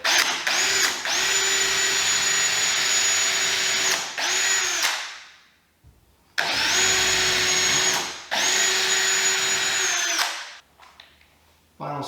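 A power drill drives screws to mount an air hose reel, with two long, loud, steady whirring runs separated by a pause and each ending in a winding-down whine.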